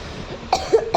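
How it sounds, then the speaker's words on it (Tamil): A single sharp cough rings out in a quiet room during a session of the horror game Granny, followed by a couple of shorter throat bursts, close and fairly loud against faint background hiss. "இருமல் வருது."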